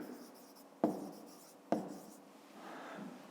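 Pen scratching on paper while a maths solution is written out by hand, soft and close, with two sharp taps among the continuous faint scribbling.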